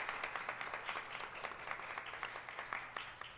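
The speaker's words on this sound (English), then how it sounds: "Please give her a round of applause." A room full of people applauding, a continuous patter of clapping at moderate distance, fairly quiet and steady from start to finish.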